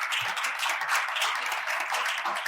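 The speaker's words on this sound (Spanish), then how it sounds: "Un aplauso" Lively audience applause at a business conference on AI and digital transformation, dense clapping from a seated crowd at steady full volume for the whole stretch, without voices on top.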